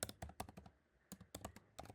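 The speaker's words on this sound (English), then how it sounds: "let me type better" Keystrokes on a computer keyboard while typing a Unix command, close and crisp in quick bursts with a short pause midway, no talking.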